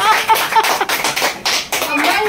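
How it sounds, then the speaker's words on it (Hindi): A crowd at a Sunderkand prayer gathering in a Mumbai home applauds with dense, continuous clapping, fairly loud and close, with voices mixed in underneath. "तालियां बजा दो उसके लिए।"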